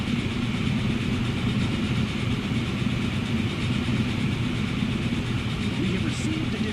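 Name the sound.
train engine in the video game Transport Fever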